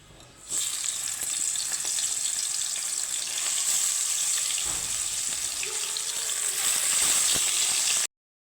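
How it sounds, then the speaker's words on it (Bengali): Pieces of katla fish frying in hot oil, a loud, dense, unbroken hiss that starts abruptly after a short quiet moment and runs steadily until it cuts off. "তেলটাকে গরম হলে আমি মাছগুলো এক একে দিয়ে দিব তো একে একে মাছগুলো আমি ছেড়ে নেব"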